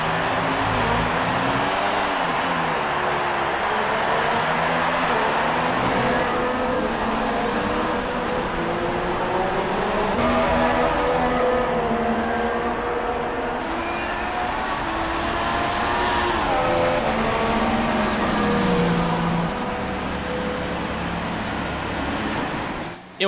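Formula 1 car engine in the F1 2016 racing game at the Mexico circuit, a steady loud drone whose pitch climbs and falls through gear changes for the whole stretch, with no voices.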